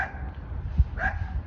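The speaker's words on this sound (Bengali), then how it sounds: "স্প্যানিয়েল ছোট ছোট কুকুরগুলি" Small spaniel dogs out with their owners on a cold winter street give a short, fairly faint bark or two over a low background rumble.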